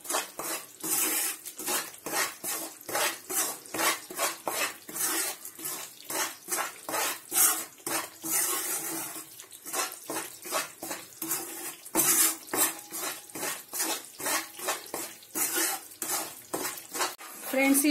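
Moong dal halwa being stirred and roasted in ghee, a spoon scraping the pan in a steady repeated rhythm with soft sizzling underneath, close and continuous.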